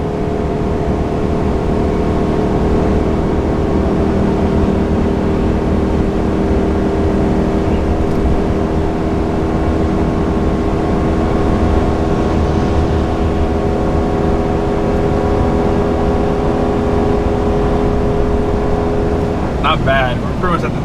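A RAM 1500 Rebel pickup tows a load up a 6% mountain grade near 75 mph, its engine giving a steady, loud drone with heavy road and wind roar throughout, and a brief rattle at the end.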